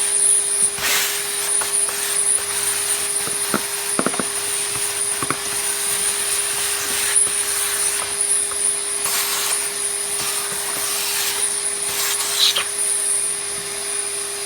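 A Hoover Celebrity Deluxe vacuum cleaner runs continuously with a steady whine and a high-pitched tone, and scattered clicks and knocks are heard as it is moved around during a clean-up.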